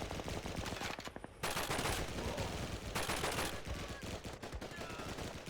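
Dense gunfire in Call of Duty 2: a continuous barrage of rifle and machine-gun shots, loud and overlapping, with a momentary lull before the firing resumes.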